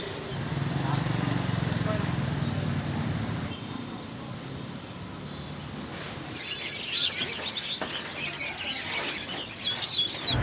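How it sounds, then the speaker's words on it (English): Caged birds in Hanoi chirp in busy bursts with some fluttering wings, following a low rumbling hum, with background noise throughout. "he wants to go and look at the birds in the cage"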